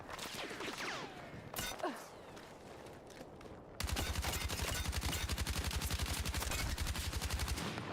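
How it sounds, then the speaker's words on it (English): Rapid gunfire in Battlefield 6, with scattered shots early on, then a loud, steady stream of rapid bursts in the second half, sounding close and continuous. "Oh, I'm getting sniped."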